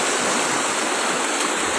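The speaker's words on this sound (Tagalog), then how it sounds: "mataas yung agos ng tubig" Rushing river water roars in a constant, loud hiss, close by and unbroken, with no voices heard.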